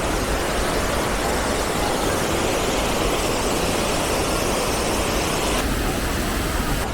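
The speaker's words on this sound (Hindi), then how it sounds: "वाटरफॉल बहुत अच्छा लग रहा है। पूरे केव्स में बना हुआ है।" Düden Falls in Antalya, where water runs through caves, gives a loud, continuous rushing roar that fills the whole stretch without a break and has no talking over it.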